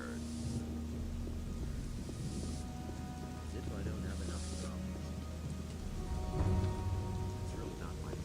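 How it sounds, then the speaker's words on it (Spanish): Steady rain patters in the video game Gothic II Night of the Raven, with low rumbling underneath. A voice speaks briefly over the constant downpour. "Otra vez con lluvia."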